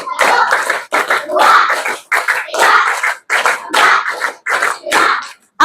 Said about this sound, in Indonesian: Ibu minta tepuk semangat ya, yuk